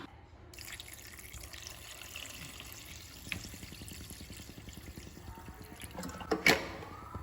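Water pours and trickles into idli kurma in a pot alongside faint background hiss, with a brief louder splash near the end.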